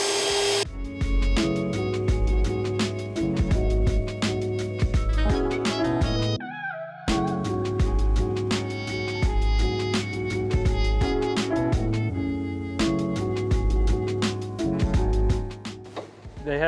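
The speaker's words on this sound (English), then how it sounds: "I'm going ahead and drilling it a little bigger than 7/16" A cordless drill whines steadily as it bores into a truck's steel frame for a 7/16 bolt, stopping briefly about midway and then starting again, loud and close.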